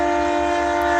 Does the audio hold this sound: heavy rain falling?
no